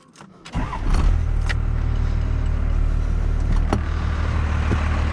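A 1992 Dodge W250 with a 12-valve Cummins diesel and five-speed cranks briefly and catches, then settles into a loud, steady, close-up diesel idle with a deep low rumble.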